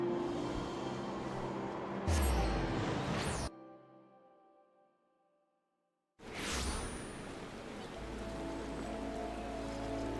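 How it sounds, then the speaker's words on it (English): Rain falls in Final Fantasy XIV: A Realm Reborn as a steady broadband hiss. It drops to near silence for a few seconds mid-clip, then returns at full strength. "Oh wow, it's raining."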